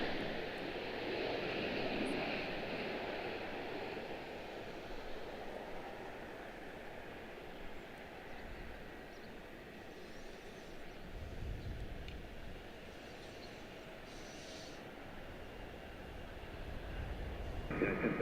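A United Boeing 737 MAX 9 airliner lands at Washington Dulles International Airport, heard as a faint, distant, steady jet roar that swells slightly toward the end.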